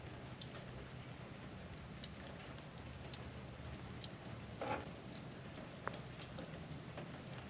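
Rain falling outdoors near a grill, a steady soft patter continuing throughout with a couple of brief sharper taps, no talking.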